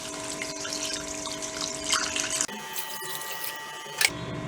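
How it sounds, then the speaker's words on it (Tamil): Water is poured into a pot of rasam with mashed tomatoes and salt, a steady splashing stream at close range with a brief pause midway and no talking. "இப்போ 3 கப் தண்ணி."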